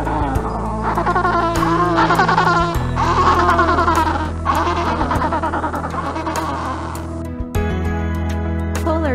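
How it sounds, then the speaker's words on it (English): Penguin calls fill the whole stretch, a dense chorus of overlapping braying cries that repeat steadily at close range over a continuous low hum. "Penguin."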